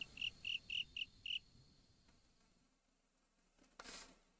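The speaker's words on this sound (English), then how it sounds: "hearing the noise of the insects, the crickets." Crickets chirp in a nighttime scene of the Ayakashi Akashi visual novel, five bright pulsed bursts in a quick rhythm, then quiet background with a brief soft rustle near the end.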